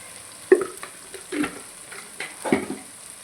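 Chili powder, salt and turmeric frying in hot oil, with soft sizzling and three brief stirring scrapes spaced about a second apart.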